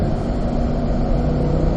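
A car engine on a race track pulls hard in a steady, loud, close rumble as it accelerates, alone without talk.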